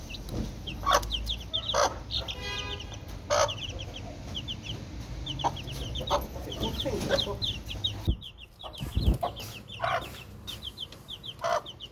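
Chicks and hens cluck and peep on a rooftop in Oujda, a dense run of close, repetitive chirps and clucks with background hum and a brief louder bump.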